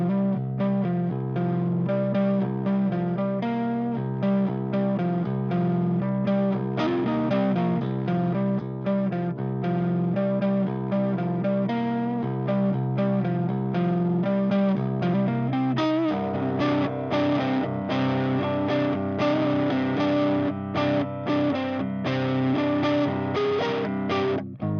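Electric guitar through a Tube Screamer-style overdrive pedal, played continuously with a warm, driven, sustained tone, chords and notes ringing loud and close for the whole stretch, no voices.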